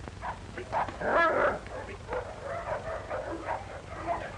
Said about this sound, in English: Sorry about the dog, Sergeant.